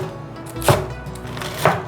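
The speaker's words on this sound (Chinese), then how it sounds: "把菠菜切碎" A knife chops spinach leaves on a cutting board in two distinct, well-spaced strokes, each a sharp thud against the board, close and alone with no talk.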